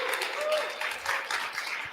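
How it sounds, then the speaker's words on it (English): Audience applause for a speaker named Brandon at a tech conference: a brief, fairly quiet wash of clapping with cheering voices over it. "Let's give a round of applause to Brandon"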